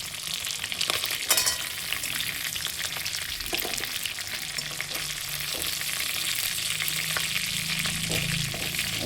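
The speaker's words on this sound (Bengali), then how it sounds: "তো মাছটা আমি ভেজে নিচ্ছি" Shimul kanta fish frying in hot oil, a loud continuous sizzle and crackle close by, with occasional sharp pops and spatula clicks over nine seconds, no talking.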